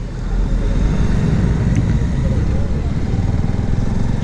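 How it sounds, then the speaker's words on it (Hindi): A motorcycle rolls along slowly in first gear, its engine a steady, close, loud low drone that holds evenly throughout with no distinct gear changes. "अब इस समय देखो धीरे धीरे चल रही है और मैं इस समय पहले गियर पे हूँ।"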